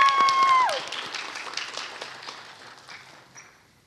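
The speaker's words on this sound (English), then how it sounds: "Let's give a big round of applause for our judges." An audience at a school poetry slam applauds the judges, a burst of clapping that starts loud and gradually fades out over a few seconds, with a brief whistle at the start.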